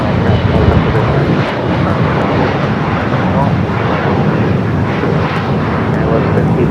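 An airplane taking off from runway 25 left at LAX, a loud, steady engine roar holding throughout with dense rumble, while a voice talks over it.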